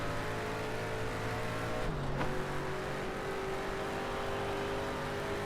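A video game race car winds down at the end of a race: a steady, buzzing engine drone with a brief dip and pitch drop partway through, then a continuous whine, with no voices.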